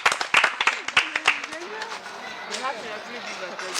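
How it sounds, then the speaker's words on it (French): A few sharp, scattered claps open the moment for a volunteer in a French modeling show, then quickly give way to talking voices and studio murmur. "On applaudit, on l'encourage."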